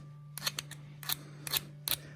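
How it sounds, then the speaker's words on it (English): A metal file scrapes a broken key in short strokes, four or five crisp rasps spaced about half a second apart over a steady low hum. "let's get a file out, see if I can file this"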